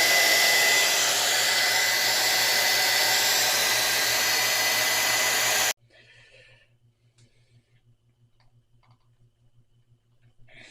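Loud, steady hair dryer blowing close by as it heats a toy figure's head sculpt, cutting off abruptly partway through and leaving faint handling noises.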